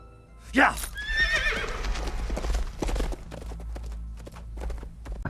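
Several horses whinny loudly up close, followed by steady hoof clip-clops on hard ground, with a voice briefly heard over the animals.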